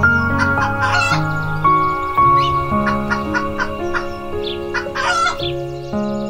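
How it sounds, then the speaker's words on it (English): Farmyard chickens cluck repeatedly while a rooster crows in bursts, loud and close, over a steady musical backing throughout. "9 chickens."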